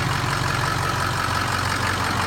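Ford 6.0 Powerstroke diesel engine with a newly fitted turbo, idling in a steady, even low rumble with a clattering texture, close and unbroken.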